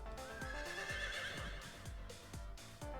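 A horse whinnies in a long, shrill neigh inside an escape room video game, over a rapid series of hoof clip-clops and a low droning hum.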